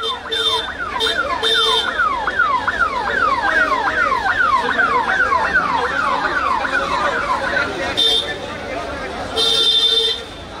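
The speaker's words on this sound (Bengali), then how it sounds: "অ্যাম্বুলেন্সটা যেতে দাও।" An ambulance siren wails in fast rising and falling sweeps while passing through an election rally crowd in Barrackpore, loud and close, with a voice talking over it and horn-like blasts near the start and end.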